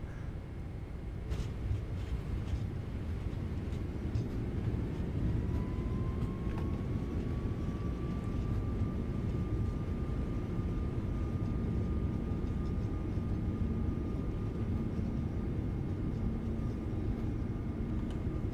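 PMDG 777 in a flight simulator rolls out after landing, producing a steady, heavy rumble of engine and runway noise with a faint rising whine throughout.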